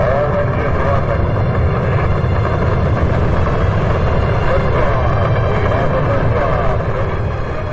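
Rocket engines roar at launch after a countdown, a loud, dense, continuous rumble that holds steady throughout without easing.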